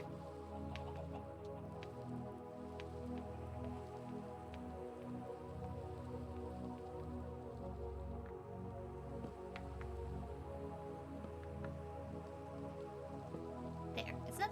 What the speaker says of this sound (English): Oh, Ben, it's raining.